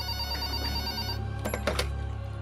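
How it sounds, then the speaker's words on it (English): A desk telephone rings with a continuous electronic bell tone, then sharper ring bursts cut in, fairly faint and alone with no talking. "I nearly jumped out of my skin when the phone on my desk rang."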